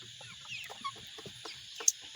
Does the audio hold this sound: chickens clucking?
yes